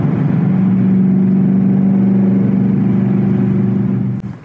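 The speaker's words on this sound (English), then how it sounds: "It does have the active exhaust, and I have never put it in quiet mode." A loud, steady engine drone from a 2019 Ford Mustang Bullitt's active exhaust, deep note holding at high revs throughout, then easing off sharply at the very end.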